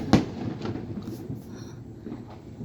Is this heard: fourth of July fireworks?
yes